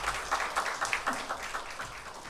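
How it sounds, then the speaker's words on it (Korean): A chapel audience at a Korean university service gives a round of thanks applause for the choir and string players, a faint, steady patter of many hands clapping in the distance. "우리 감사의 박수, 격려의 박수 하겠습니다"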